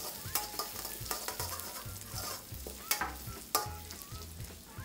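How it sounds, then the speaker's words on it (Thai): Crushed chili and garlic stir-fried in a hot pan for Thai holy basil stir-fry with omelette, a steady close sizzle broken by repeated scraping and clacking strokes of a spatula, no voices. "ใส่พริกกระเทียมโขกหยาบลงไปตามชอบได้เลยนะครับผัดให้แตกกลิ่นหอมเลยครับ"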